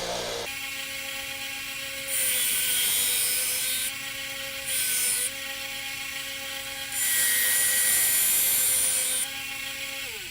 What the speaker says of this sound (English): watch how I push that in and where the sander's meeting the metal